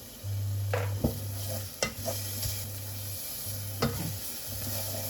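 Garlic frying in a pan over medium heat, a continuous sizzle broken by several sharp scrapes and taps of a utensil stirring, with a low hum in the background.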